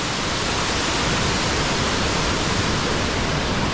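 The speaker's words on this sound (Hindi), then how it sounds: "वो झरना उधर है" A waterfall roars as a dense, steady, loud rush of falling water, continuous and close, with no voices over it.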